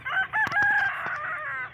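A rooster crows once in a village setting, a loud, clear, drawn-out call close by that rises and holds before trailing off.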